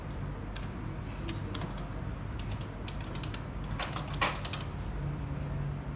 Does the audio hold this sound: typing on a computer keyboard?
yes